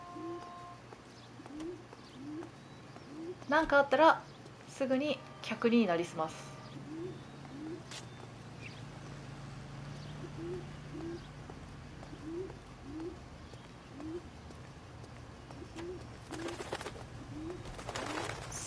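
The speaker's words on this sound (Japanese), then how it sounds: "すごい右側から鳩の鳴き声が聞こえる。" Pigeons coo in a soft, repeated rhythmic pattern from one side within the L.A. Noire game world, faint and steady under brief louder in-game sounds and a spoken voice line.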